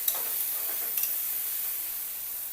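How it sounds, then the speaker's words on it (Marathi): Onion and green chili sautéing in oil in a pan, a steady close sizzle with a couple of soft stirring scrapes and no talk. "कांदा आणि मिरची छान भाजायची"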